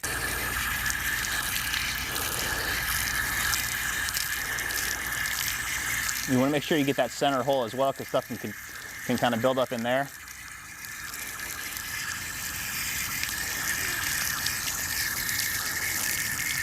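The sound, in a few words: water rinsing through a polishing pad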